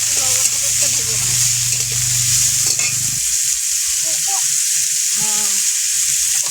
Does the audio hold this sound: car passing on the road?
no